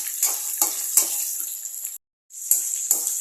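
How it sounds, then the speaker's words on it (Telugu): Green chillies sizzle and fry in hot oil in a pan, a steady crackling hiss with sharper stirring bursts, broken by a brief silent gap before the frying resumes close and loud. "పచ్చిమిర్చి కూడా వేసి ఫ్రై చేసుకోవాలి."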